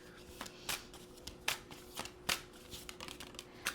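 Tarot cards riffled and shuffled by hand in a series of crisp, close bursts of slapping and fluttering, each a quick rasp with short pauses between, alone without talk.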